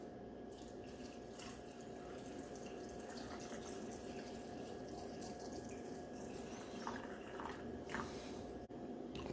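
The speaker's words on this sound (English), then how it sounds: "we'll fill these up with water and see where we are" Tap water runs steadily into canning jars being filled for pressure-canned beef and barley soup, a continuous splashing flow with small drips and sloshes throughout, fairly quiet and without any talk.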